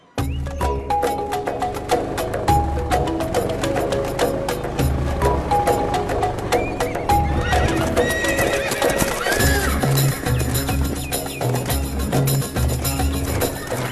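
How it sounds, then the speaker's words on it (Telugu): Several horses neigh and their hooves clip-clop in a busy, loud scene from a Telugu action film, with dense layered sound throughout. "అందుజీ ఇన్ని గుర్రాలు?"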